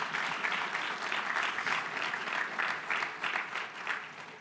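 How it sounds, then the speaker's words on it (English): A live audience at a launch event applauds steadily, a dense wash of many hands clapping at even loudness throughout, with no voices rising above it. "Please give them a round of applause"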